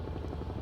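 Helicopter rotor and turbine drone from Microsoft Flight Simulator 2024 played on a console, a steady low throbbing hum that holds at even loudness through the short moment with no voices.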